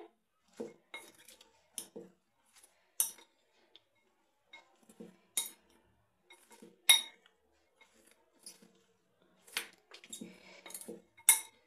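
A spoon mixing a simple salad with coriander and squeezed lemon in a bowl, producing irregular close clinks and taps of metal on dish separated by short quiet gaps.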